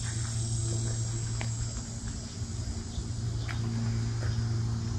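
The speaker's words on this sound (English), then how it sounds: "then you hear those cicadas. What a sound." A steady, dense insect buzz fills the garden without pause, a continuous droning chorus with a few faint clicks and rustles underneath.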